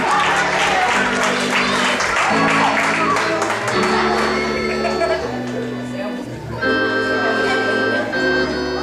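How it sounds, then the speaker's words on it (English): Applause from a crowd at a 5th grade graduation ceremony, sustained clapping under steady music tones with a voice on a microphone speaking over it. "give Rochford another big round of applause."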